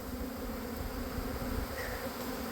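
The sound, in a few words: honey bees flying around hives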